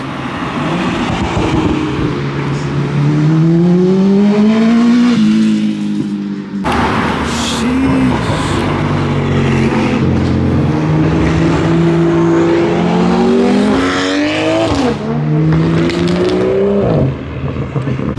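Car engines rumble and rev nearby, pitch rising and falling as vehicles roll past one after another, a loud continuous motor drone throughout.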